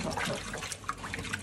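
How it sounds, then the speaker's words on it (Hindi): Ten kilograms of potatoes being washed in cool water for a street-food chole dish, a continuous close splashing and sloshing of water with steady churning throughout. "छोले में आलूओं की मिश्रणबाजी के लिए हमने 10 किलो आलूओं को शीतल जल से स्नान करवाया"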